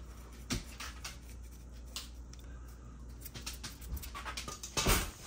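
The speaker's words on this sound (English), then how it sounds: "That's the sweetest dog ever." A small dog whimpers and pants close by in a kitchen, soft breathy panting with a few brief sharp sounds, faint against a quiet room.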